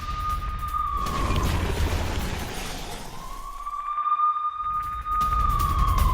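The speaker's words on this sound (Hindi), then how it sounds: "तेल अवीव और यरूशलेम में गूंजे सायरन" An air raid siren wails during a rocket attack on Tel Aviv and Jerusalem, its tone rising and falling in slow sweeps, loud and steady over a low rumbling background, with no speech.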